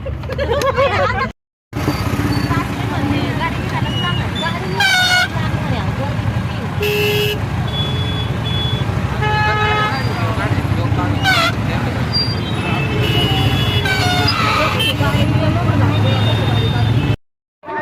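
Dense traffic crawling to the Gangagiri Maharaj saptah festival gathering: repeated car and bus horns honk near and far over a steady engine rumble and crowd noise, with voices talking throughout.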